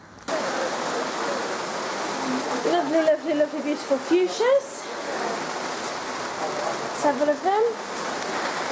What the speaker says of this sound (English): as you can now hear, it is very much raining